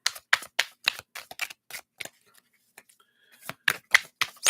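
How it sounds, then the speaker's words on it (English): A deck of tarot-style reading cards is shuffled in quick bursts of crisp clicking and flicking, a short pause in the middle, then another run of sharp card snaps, close and fairly quiet. "Let's shuffle one more time here."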